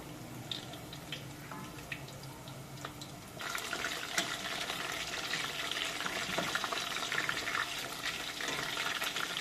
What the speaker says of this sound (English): Fry them until they turn golden brown. And stir them occasionally so they don't stick together.